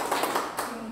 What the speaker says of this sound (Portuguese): Palmas para eles, então.